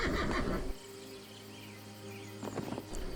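A horse neighs and whinnies in the Albion Online game, a loud burst in the first moment followed by a sustained tonal call, with another short whinny near the end.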